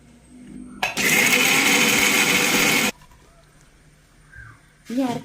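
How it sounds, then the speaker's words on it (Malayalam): Kitchen mixer grinder blends green peppercorns, garlic and shallots, a loud steady whir lasting about two seconds that starts and stops abruptly, with faint background noise before and after. "പച്ചക്കുരുമുളകും വെളുത്തുള്ളിയും ചുവന്ന ഉള്ളിയും നമുക്ക് ഒന്ന് അരച്ചെടുത്തിട്ട് വരാം"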